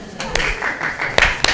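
Scattered audience clapping at an event, a few sharp claps over a low murmur of crowd voices, short and uneven rather than sustained applause.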